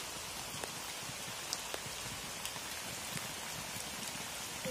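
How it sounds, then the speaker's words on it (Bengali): Steady heavy rain pours down in the Sundarbans with a dense, hissing roar, with occasional louder drops standing out. "আর বাইরে প্রচুর বৃষ্টি হচ্ছে, শুরু হয়েছে বৃষ্টি।"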